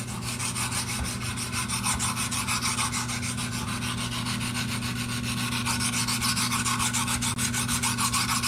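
Boning knife blade drawn back and forth across an oiled sharpening stone, a steady rhythmic scraping rasp repeating rapidly and evenly throughout, close and loud with no speech.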